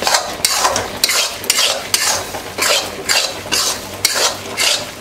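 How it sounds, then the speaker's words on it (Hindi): Gram flour roasts in a pan while being stirred, giving a loud, rhythmic scraping of a spoon against metal roughly every half second over a soft continuous sizzle, with no voices. "और यहाँ पे हमारा बेसन सिक रहा है।"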